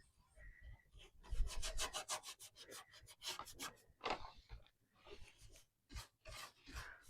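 Aging wax is rubbed onto a piece of thrifted wooden furniture with quick, close scrubbing strokes, coming in short bursts with brief pauses.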